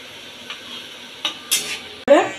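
Fried onion slices (beresta) are lifted out of hot cooking oil: a few soft clinks and scrapes, then a short, bright burst of sizzling at the end.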